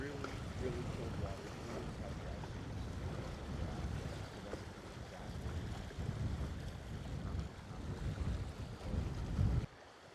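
Strong, buffeting wind roars across the microphone on Flagstaff Lake, Maine, during canoe camping, with a steady low rumble, mixed with choppy water and surf, continuous and close for the whole stretch.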